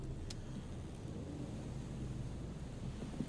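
Wind blows over the boardwalk in the video game Disco Elysium, a low, steady rumbling gust that stays faint and even throughout with no voices.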